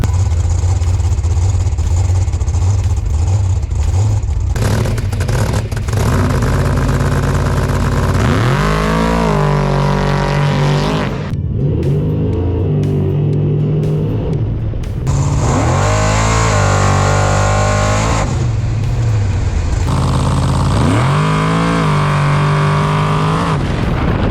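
A race car on brand new slicks launches hard with no burnout, its engine screaming loud and close through repeated rising gear pulls, each climb cut by a quick shift before revving up again.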